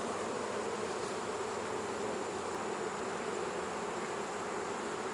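Dense, steady buzzing of many honeybees close by in an open hive during a hive check, a continuous swarm hum with no pauses.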